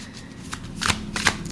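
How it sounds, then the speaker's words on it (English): A tarot card deck is shuffled close to the microphone, a few quick riffling bursts and soft card slaps repeating over about a second and a half. "we're gonna shuffle a bit more"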